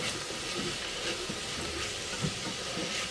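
Garlic cloves sizzle steadily in a hot pan while being stirred for a bean dish, a continuous close hiss with faint scraping ticks throughout.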